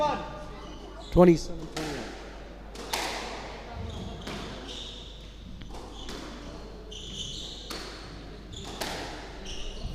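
Squash ball struck and rebounding off the court walls during a junior and open league final, sharp repeated impacts at irregular intervals with shoe squeaks, under continuous commentary.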